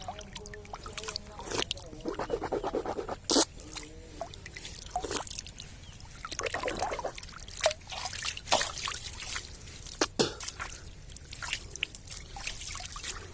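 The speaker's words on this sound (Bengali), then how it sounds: "এই হচ্ছে পানি।" Water in a village river trickles and splashes gently nearby, in uneven bursts with small drips and sloshes, and a faint voice surfaces briefly.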